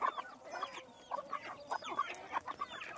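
Several farm chickens cluck in short, rhythmic bursts as they come running when called, sounding fairly close and moderately loud against a quiet background.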